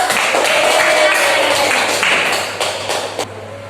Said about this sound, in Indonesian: Kasih tepuk tangan dulu